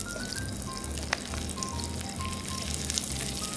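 Salmon brushed with a sweet balsamic and elderberry glaze sizzles in a pan, a steady close crackling fry with faint liquid trickling and no voices.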